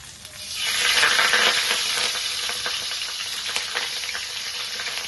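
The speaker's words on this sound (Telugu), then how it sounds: "ఇప్పుడు దీంట్లో తమ్ముడు పప్పు వేసుకుందాం." Lentils frying in a pan for bottle gourd curry give a steady, moderately loud sizzle that swells in the first second and then settles, with light crackling and stirring.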